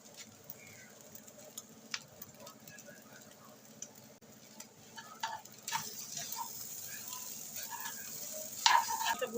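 Butter is stirred into egg chira pulao frying in a pan, a faint soft sizzle with light scraping stirs that grows a little louder toward the end.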